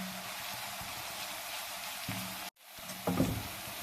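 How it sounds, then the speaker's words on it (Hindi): Spice masala of turmeric and coriander frying in a pan for a brain (maghaz) masala dish, a steady close sizzle that briefly cuts out, then returns with a louder burst of crackling, with no talking. "सब चीज़ें डाल के इसको थोड़ा सा भूनेंगे"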